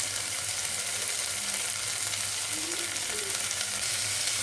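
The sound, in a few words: vegetables frying in a pan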